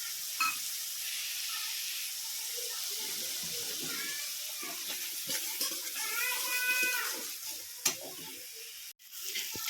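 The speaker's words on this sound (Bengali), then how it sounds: "এবার মশলাটায় অল্প একটু জল দিয়ে কিছুক্ষণ কষিয়ে নেব।" Spice paste of cumin, turmeric, garam masala and chili powder sizzles and fries with a splash of water in a pan, a steady close hiss with stirring scrapes and bubbling, a sharp clack near the end.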